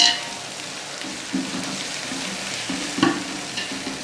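Tomatoes tipped into a pan of onion and garlic-ginger paste frying for a pea, potato and chicken pulao, giving a steady sizzle with stirring scrapes and a few louder bursts as they land.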